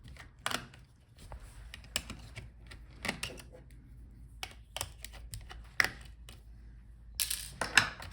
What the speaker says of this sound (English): Now unscrew the screws for the fan.